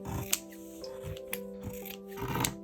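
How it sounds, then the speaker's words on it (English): Scissors clip the corners of fabric for a zipper handbag, making a few sharp close snips with soft rustling of cloth between them and no talk. "I'm gonna clip these corners"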